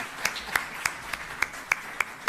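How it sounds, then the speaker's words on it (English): Sparse, evenly spaced claps from an audience at a UN Day flag-raising ceremony in Jamaica, about eight distinct hand claps at a slow steady rhythm, fairly quiet and with no voices. "I'm going to ask the audience to join me in applauding you."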